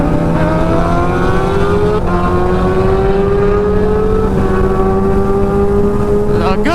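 Several Kawasaki Ninja H2 motorcycles of 300+ hp scream at high speed, one continuous loud engine whine climbing steadily in pitch under heavy wind rush, with a brief shift dip partway through.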